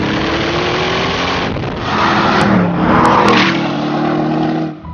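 A Bentley Continental V8 S engine revs loudly and steadily, the exhaust note rising through a couple of swells before dropping off at the end, heard up close with no talking.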